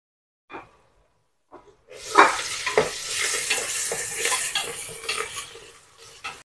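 Green chillies and onions hit hot oil in a pan for mutton curry, starting after a few faint taps with a bright, busy sizzle that crackles and pops steadily while a spoon stirs and scrapes now and then.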